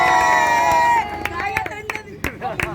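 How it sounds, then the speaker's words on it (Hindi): A crowd watching an aloo paratha eating challenge claps for the winner, scattered sharp claps and a brief cheer under loud music and a voice. "और ये नैतिक के लिए तालियां बजा दो भैया।"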